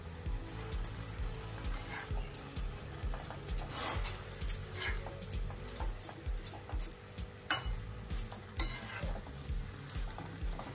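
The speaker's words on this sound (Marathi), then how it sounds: "आता हे नूडल्स या ठिकाणी चिमट्याने व्यवस्थित मिक्स करून घ्यायचे." Veg Hakka noodles being tossed and mixed with tongs in a hot pan, a steady sizzle with quick irregular scraping and clicking of the tongs close up, no talk.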